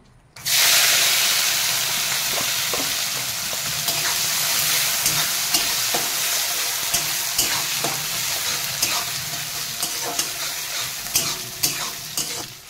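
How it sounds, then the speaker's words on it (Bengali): Shrimp hit hot oil with a sudden loud burst of sizzling, settling into a long, dense, crackling fry with frequent sharp spits and pops over nearly thirteen seconds; no talking. "আমার তেল গরম হয়ে গেছে, চিংড়ি মাছগুলো ভেজে নেব।"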